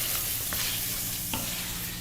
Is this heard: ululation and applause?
no